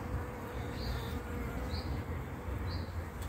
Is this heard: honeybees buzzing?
yes